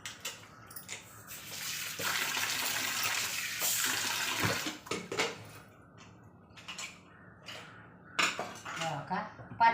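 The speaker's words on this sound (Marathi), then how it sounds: "कुकर उघडते." A pressure cooker of mutton trotter soup is opened and the soup poured into a pot, bringing metallic clanks and a sustained watery pour, then scattered utensil knocks, with a faint voice at times.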